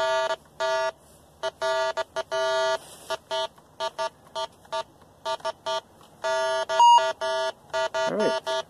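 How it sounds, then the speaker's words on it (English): A GoFind20 metal detector passes over a freshly dug garden spot, giving a run of sharp, irregular electronic beeps and tones, close and clear over quiet outdoor background. "I'll take the detector and go over that spot that I dug."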